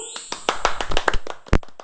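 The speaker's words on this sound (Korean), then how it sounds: "박수!" A short burst of hand claps at the close of a filmed challenge, a few sharp claps mixed with voices talking nearby.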